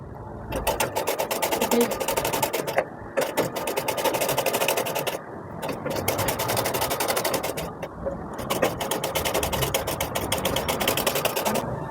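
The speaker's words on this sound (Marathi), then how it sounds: "पाव इंचावर शिलाई येऊ दे।" A sewing machine stitches a four-tuck blouse at a quarter-inch seam, a loud, fast, rapid needle clatter that runs in bursts. Brief pauses come between the runs.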